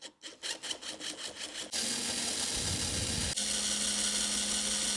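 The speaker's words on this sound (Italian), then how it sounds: "Adesso riprovo a utilizzare la punta che c'è su una delle due estremità dell'estrattore, sempre in rotazione contraria, quindi a svitare." A power drill spins a screw extractor bit in reverse against a damaged screw, starting with a run of short pulsed whirs and then settling into a steady high grinding drone, loud and close, with no talk.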